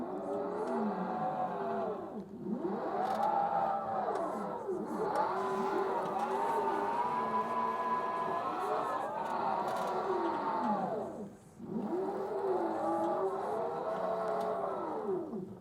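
A steady electric whine rises and falls as a Scag EVZ electric zero-turn mower drives around, close and continuous with brief dips in level.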